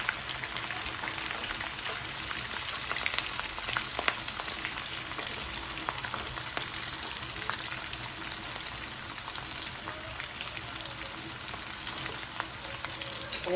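Plenty of sliced onion and garlic frying in hot oil for a tin fish curry, a continuous crackling sizzle with fine spitting pops that runs steadily and fairly close for the whole stretch, with no talking.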